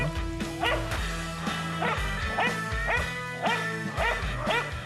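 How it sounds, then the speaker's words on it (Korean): A police detection dog in training barks after finding the box with a hidden sample, giving about ten sharp, evenly spaced barks close by, loud and alone. "시료를 찾은 미르는 이내 짖으며 자리를 지키는데요"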